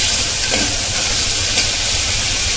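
Tomatoes sauté in an oil-filled pan for mutton kulambu, giving a loud, continuous sizzle and hiss with occasional scrapes of stirring, close up and with no voices.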